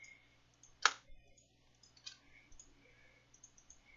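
A single sharp mouse click during a Hypixel Skyblock session, near and isolated, followed by a fainter second click amid quiet background hiss.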